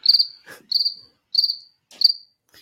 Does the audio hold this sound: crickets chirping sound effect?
yes